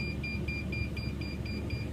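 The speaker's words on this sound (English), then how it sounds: "Something is beeping." A battery-powered carbon monoxide detector gives a short, high electronic beep repeating in a fast, regular rhythm over a low background hum, steady and moderately close.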